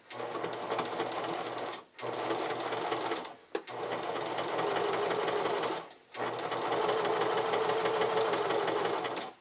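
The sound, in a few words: sewing machine stitching a camisole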